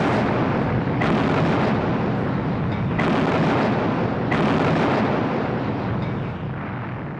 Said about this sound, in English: So the British opened fire on their former allies.